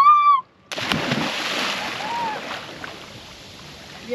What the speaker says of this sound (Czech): Takže první skočení do vody.